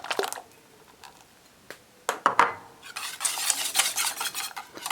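A spoon stirs strawberry candy syrup mixture in a pan for baby-bottle sweets, producing bursts of scraping and gentle bubbling clatter between quiet pauses, close and alone.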